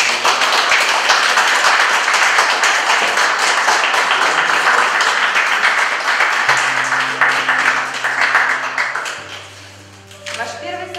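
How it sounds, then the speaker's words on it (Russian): Wedding guests applaud a newlywed couple's first kiss at a ceremony, dense steady clapping filling the room for about nine seconds before fading as music notes begin underneath. "А вы, уважаемые гости, поддержите их аплодисментами."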